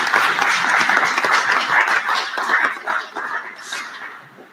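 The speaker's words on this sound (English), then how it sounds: "You can clap." Audience applause following the announcement of a debate team member at a political debate, a steady, dense wash of clapping lasting several seconds before tapering off.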